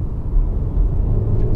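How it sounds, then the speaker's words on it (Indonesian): A 2023 MG HS SUV accelerating after a delayed throttle response, a close, loud, low engine and road rumble heard from inside the cabin, swelling slightly and holding steady. "Gue coba gas nih ya."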